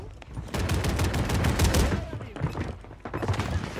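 Rapid bursts of automatic gunfire in the Call of Duty Warzone video game, loud and nearly continuous with brief pauses, layered with thuds and game effects while a voice talks over the action.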